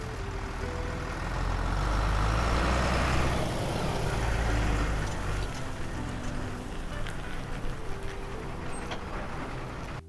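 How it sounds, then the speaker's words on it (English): A vehicle transport truck, a car carrier hauling vehicles, gives a loud, steady low engine rumble that swells for a few seconds and then settles into an idling drone throughout. "That's a vehicle transport truck."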